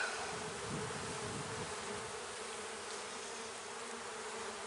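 Honeybees hum in a dense, steady drone from an open hive during an inspection, close and continuous with no talk.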